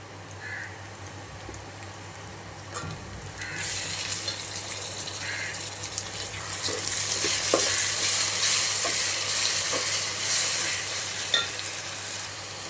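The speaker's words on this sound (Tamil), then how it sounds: "இஞ்சி பூண்டு ஆட் பண்ணிவிட்டு நல்லா பச்சை வாசம் போகிற வரைக்கும் ஸோ நல்லா கிண்டி வச்சு செய்கிறாங்க." Ginger garlic paste fries with browned onions for biryani, a soft sizzle swelling into a louder, steady hiss as it is stirred, with a few faint utensil taps near the pan; no talking.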